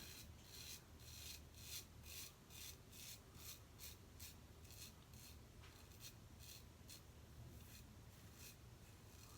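A razor shaving through a lather of jojoba vegan shave cream, fougère-scented, made by WCS, in fast passes: a loud, close, steady run of short rasping strokes, about two per second, with no talking.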